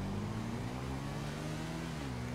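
A motorcycle engine revs in GTA V Online during a ride on a Kawasaki ZX10R or Yamaha YZF R3, giving a loud, steady drone that lasts throughout with no talk.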